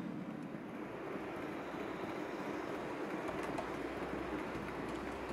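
A battery-powered model locomotive with wireless hand control runs along its track, giving a faint, steady rolling whir that holds evenly throughout with no voices.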